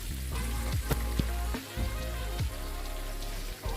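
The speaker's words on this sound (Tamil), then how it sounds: "மீன் வாங்கி வெட்டி ஆஞ்சி இதோ பொரிக்க போகிறேன்" Mackerel sizzles and crackles steadily in hot frying oil, a loud close crackle with scattered pops and no voices.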